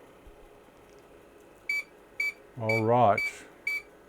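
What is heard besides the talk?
beeps from IBM PC 5150 reading a diskette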